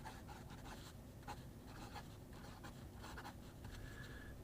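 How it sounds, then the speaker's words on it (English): A Conklin fountain pen with a medium nib and a poor feed scratching on paper, with faint intermittent strokes over a quiet room hum. It sounds close but soft, with no talking. "This one, it's having a hard time writing."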